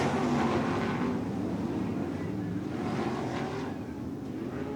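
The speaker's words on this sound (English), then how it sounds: "Oh, we got a spin down here and a little bit of a crash." Lightning sprint race cars roar around a dirt oval during a spin and minor crash, a dense, continuous, loud engine drone with no clear separate impact standing out.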